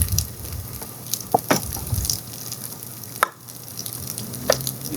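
Olive oil hisses and sizzles in a pan during outdoor cooking, a steady close fry broken by a few sharp pops and crackles, with no one talking.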